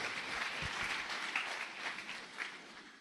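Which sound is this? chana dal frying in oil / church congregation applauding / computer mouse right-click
church congregation applauding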